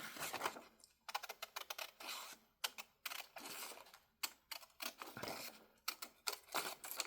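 Scissors snip through paper in a junk journal craft, cutting along a drawn line: a brisk series of close, crisp crunching cuts with short pauses between strokes, and no voices.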